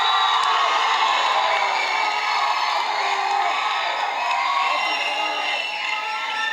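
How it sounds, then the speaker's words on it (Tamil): A large audience at a Tamil film audio launch event cheers and whoops continuously, a dense roaring crowd sound sustained at steady loudness throughout. "சந்தானம் அவர்களே ஒரு பெரிய கைத்தட்டலோட."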